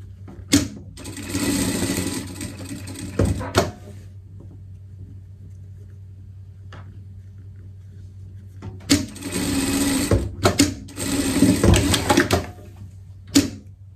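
A sewing machine stitches around fabric contours on a dog chef costume in several bursts of rapid mechanical clatter, separated by pauses and quieter handling sounds.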